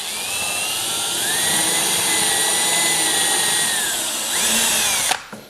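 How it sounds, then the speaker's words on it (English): A power drill runs steadily and loudly while boring through wooden porch boards, its motor pitch rising slightly mid-run and dropping near the end before it stops abruptly. "Then what we're gonna do is drill through all four corners here."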